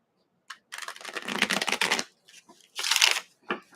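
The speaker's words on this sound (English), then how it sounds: "And last shuffle." Cards being shuffled for a reading in several quick riffling bursts, close and moderately loud, separated by short pauses.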